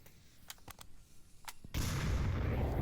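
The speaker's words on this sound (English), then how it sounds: "Nades coming out right on time." Grenades exploding in the VR shooter Onward, a few sharp distant pops followed by a sudden sustained roaring blast that fills the rest of the moment.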